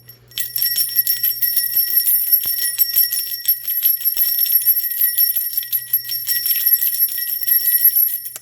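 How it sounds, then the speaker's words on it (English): Small bells rung continuously in an altar bell cleanse, a bright shimmering jingle with rapid repeated strikes, close and steady for about eight seconds, no talking. "I'm going to ring the bells, okay?"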